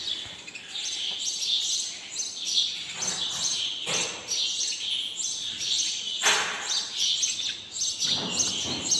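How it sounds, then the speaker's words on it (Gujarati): Busy, continuous chirping from many sparrows nearby, overlapping tweets rising and falling with no voices. "ચકલીઓ અહીંયા માળા બનાવે"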